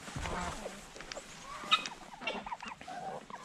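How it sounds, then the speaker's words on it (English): A turkey pecks and gobbles nearby in a backyard setting, with short clucking calls and soft pecking taps over faint outdoor background noise. "turkey's pecking away behind me"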